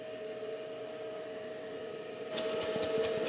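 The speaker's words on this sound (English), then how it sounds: "You hear a vacuum complaining loudly." A portable vacuum used for woodworking dust collection drones with a steady, strained whine from a clog, then a few sharp rattling clicks break in near the end.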